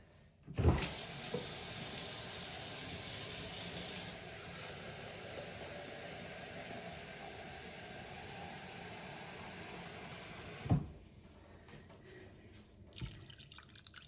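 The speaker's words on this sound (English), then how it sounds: "we're going to cover them with cold water" Tap water runs steadily into a pot for about ten seconds, a continuous close hiss, starting and stopping with brief clunks.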